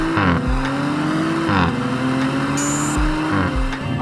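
Audi RS4 Competition engine pulls hard through the gears while driving, loud and close, its note climbing and then dropping sharply at each of several quick gear changes, with a brief tire-like squeal high in the mix.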